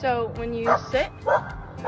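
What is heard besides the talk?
dog barking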